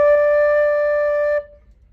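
A single sustained flute note, the D, played by a beginner flute teacher, holds steady and clear for over a second with strong harmonics, then stops cleanly into near silence.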